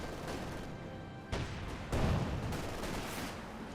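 Tank gunfire from a Panther in a Company of Heroes 2 battle: two heavy, booming shots land about half a second apart, each leaving a rumbling tail over a constant background of distant combat noise.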